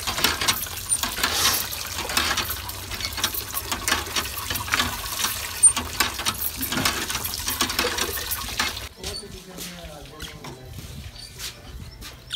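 Boiled vermicelli gets wrung out by hand in a village kitchen, hot water dripping and splashing steadily before cold water is poured in with a softer trickle and slosh, close and moderately quiet.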